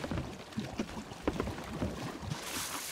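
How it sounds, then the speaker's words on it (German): Water rushing into a leaking ship through a hole in Sea of Thieves, a steady close sloshing and pouring wash with scattered splashes and creaks, no talk over it. "Also wir laufen hier wirklich mega voll Wasser."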